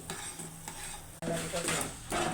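A utensil stirs and scrapes around a pot of liquid, sloshing in uneven strokes close by, with faint sizzling and a brief knock midway.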